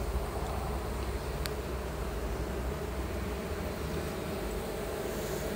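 Honey bees buzz steadily around an opened beehive box outdoors, a constant dense drone with no talk.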